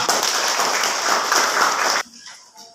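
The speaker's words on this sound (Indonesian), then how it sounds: "sekarang tepuk tangan untuk kita semua" A classroom full of people claps loudly and steadily for about two seconds, then the applause cuts off abruptly into quiet room noise.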